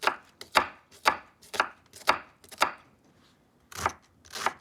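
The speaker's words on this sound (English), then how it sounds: "Caring about how fine I'm chopping this." Knife chopping vegetables on a cutting board for tomato soup, a steady series of crisp, close chops about two per second with a short pause before two final strokes.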